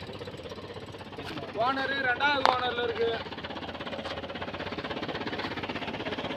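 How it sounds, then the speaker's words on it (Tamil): A Chevrolet Tavera engine runs with a steady low rumble close by, and someone talks over it for much of the time. "பாருங்கள், இன்ஜின் ரேஸ் பண்ணுறேன், சூப்பராக இருக்கும்"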